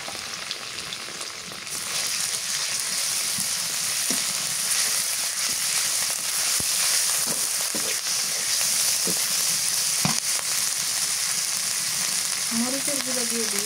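Garlic, onion and cumin paste hits frying onions in hot oil, setting off a steady close sizzle with occasional stirring knocks and clinks; a brief squeaky scrape appears near the end, no voices.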